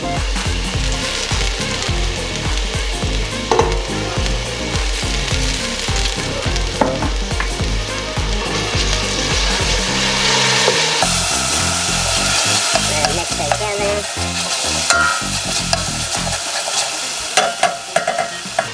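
Black bean and ground pork stir-fry in a hot pan, with loud, continuous sizzling and rhythmic scraping and clattering of a spatula, heard close up and without voices.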